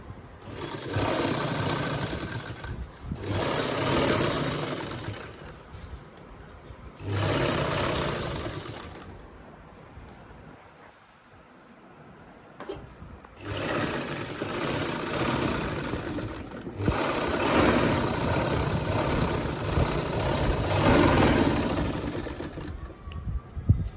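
A sewing machine stitches fabric for a buckram-stiffened cuff in several bursts of steady, close whirring. The bursts are separated by short pauses and a longer quiet stretch before a final extended run.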